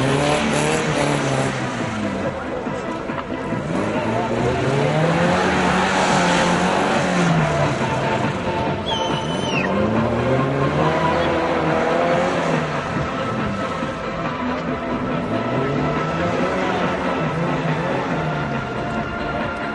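An Oltcit rally car on a race track, its engine close and loud, surging up and dropping back in repeated rev cycles every few seconds, with a brief faint tire squeal.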